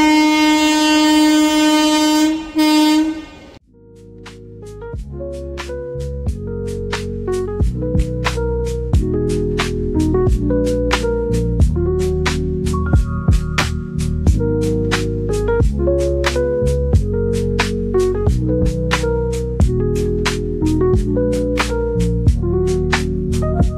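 A train pulling into Nashik Road station opens with a long loud horn blast, then a steady rhythmic clatter of wheels over rail joints with a droning hum, close and continuous.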